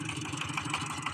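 A farm tractor idles steadily before a test drive, its engine chugging in an even, close, moderately loud rhythm with no voices over it.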